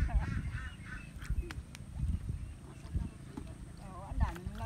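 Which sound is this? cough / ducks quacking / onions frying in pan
ducks quacking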